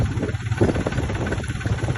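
A motorbike engine idles with a steady low rumble and faint vibration, close by and continuous.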